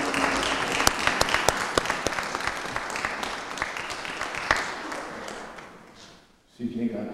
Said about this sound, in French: on devrait lui donner notre bonne main d'applaudissement pour notre appréciation